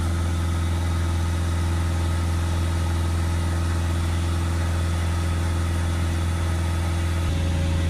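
A Citroen Relay 2.0 diesel engine idling steadily, a constant low rumble with an even mechanical hum that holds throughout, close and fairly loud.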